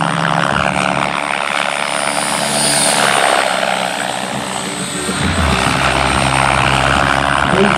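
A Blade 700 X radio-controlled helicopter flies a demo at the IRCHA 2013 event, its rotor and motor whine loud and steady throughout, shifting pitch as it maneuvers nearby.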